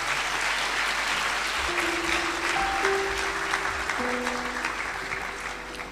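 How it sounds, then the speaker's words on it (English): Steady, even applause from an audience welcoming an artist at a public lecture event, a dense wash of clapping held at a constant level with a faint tonal sound drifting in behind it. "please give a beautiful round of applause to our artist"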